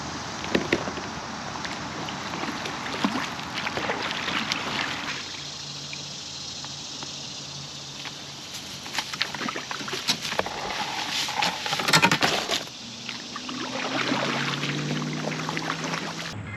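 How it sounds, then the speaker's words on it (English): Kayak paddle strokes splash and drip on the Susquehanna River, with irregular close watery dips and trickles over a quiet background. "I guess I'll start paddling."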